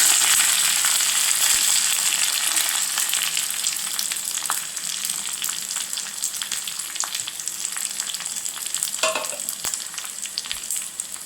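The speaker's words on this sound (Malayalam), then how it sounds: "ഉണക്കമുളകും കറിവേപ്പിലയും കൂടി ഇട്ട് കൊടുക്കാം കേട്ടോ." Dried red chillies and curry leaves sizzling in hot oil, with a few fenugreek seeds, while preparing a Kerala bitter gourd theeyal; a steady crackling fry with occasional stirring clinks, close and uninterrupted by speech.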